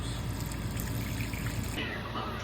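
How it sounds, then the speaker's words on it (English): A couple of cups of water poured into a pot with a spice bag of dried watermelon peels for rind tea, a soft, steady trickle heard faintly and close. "And just add a couple more cups of water."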